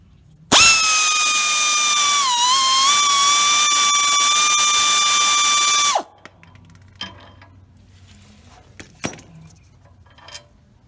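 A power tool, likely an impact driver or drill, whirs loudly in one sustained run for several seconds while bolts and nuts come off the back plate of a Toro Z553 mower with a Kohler 23 hp engine. Faint metallic clinks and taps follow.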